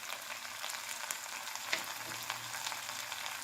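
Garlic fries in a pan alongside ginger-chilli paste and salt for a sprouted moong dish, giving a steady close sizzle and crackle throughout with a few brief stirring clicks.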